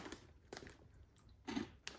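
A few sharp crunchy bursts of chewing, close and fairly quiet, spaced out with short gaps between bites.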